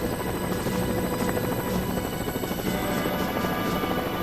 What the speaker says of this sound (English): Lieutenant Lang flies the H-60 Jayhawk helicopter into position.